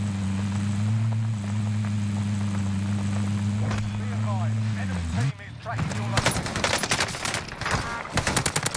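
An MP40 submachine gun in Call of Duty Warzone opens up near the end in loud, fast bursts, following a long steady helicopter-like drone and under a voice talking.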